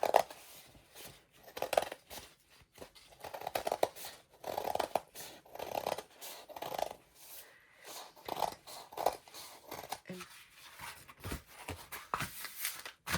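Scissors snip through paper, cutting out a large heart shape for a junk journal, in a steady series of short close crunching cuts with brief pauses between them.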